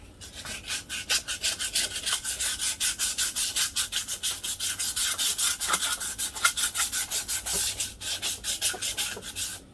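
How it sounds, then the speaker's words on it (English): Steady back-and-forth rubbing of 240-grit emery cloth on a metal KD80 front-end part, deglazing its surface. Quick, even strokes repeat close and loud for the whole stretch, with no voices. "Once again, I'm using emery cloth and I'm using 240 grit."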